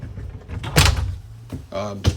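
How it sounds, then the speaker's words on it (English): A sliding bedroom door in a 2022 Georgetown GT5 34H5 RV rolls and thuds shut, a short close sound followed by a second knock, with a voice around it. "Have a sliding door here to close that off."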